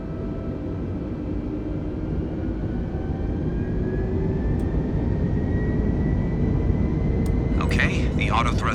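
Airbus jet engines in Microsoft Flight Simulator roar steadily as they spool up for takeoff, a loud, continuous broadband rumble that builds slightly, with a voice briefly audible near the end.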